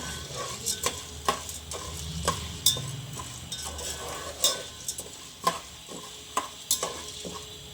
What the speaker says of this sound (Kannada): ಈ ಥರ ಎಣ್ಣೆಯಲ್ಲಿ ಸ್ವಲ್ಪ ಚೆನ್ನಾಗಿ ಫ್ರೈ ಮಾಡಿ